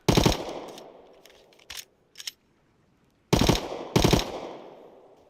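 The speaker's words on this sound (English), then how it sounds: "Let me stand back and maybe do a hip fire." Hip-fired gun in the console version of Rust: a short loud burst of automatic fire, a few scattered single shots, a pause, then two more sharp bursts close up.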